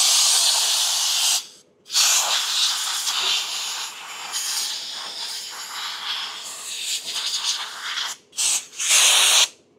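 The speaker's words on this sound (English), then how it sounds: "just going to blow the air in here and blow the brake dust away" Compressed air blasts brake dust out of a car's wheel and brake assembly in loud, sharp hissing bursts. A long blast is followed by brief cut-offs and then several short bursts near the end.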